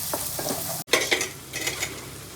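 Chicken sizzles in a hot pan for methi chicken, with a sharp scrape of a spoon stirring partway through, then bursts of crackling frying and spattering oil close by.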